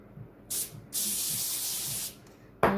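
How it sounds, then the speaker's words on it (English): An aerosol can of cooking spray hisses onto food in a home kitchen in two bursts, a short one and then a longer one of about a second, close and clear, followed by a soft knock. "I'm going to spray mine down with this spray"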